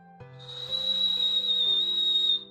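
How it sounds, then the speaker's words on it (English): A person whistles a single sustained, steady high tone that wavers slightly in pitch, heard fairly close over a soft background music bed, lasting about two seconds before stopping. "I whistled."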